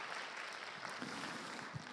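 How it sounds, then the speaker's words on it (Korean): A congregation applauds after a sermon at a chapel service of the Methodist Theological University. The clapping is soft, distant and steady, a diffuse wash of sound for the full two seconds. "우리 박수로 감사의 마음 전하겠습니다"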